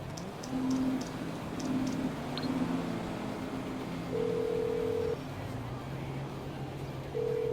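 A phone call in GTA V Online: short electronic ring and dial tones come in separate bursts, with a steadier tone later, over faint game ambience and a low voice.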